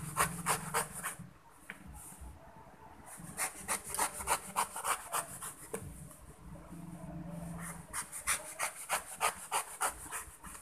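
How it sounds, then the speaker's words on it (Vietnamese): Knife shaving away the pithy inner peel of a green-skinned pomelo, giving repeated close scraping and rasping strokes in an uneven rhythm, with short pauses between bursts. "Chúng ta sẽ gọt bỏ cái phần lớp vỏ bên trong."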